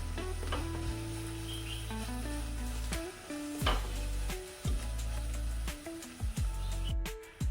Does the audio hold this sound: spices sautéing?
yes